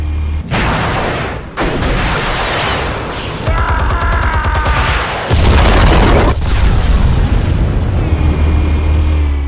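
Explosives detonating in the Batman Telltale video game produce loud, heavy booms and blasts with rumbling low end and crackling debris, several sharp hits over sustained roaring noise, with no talk.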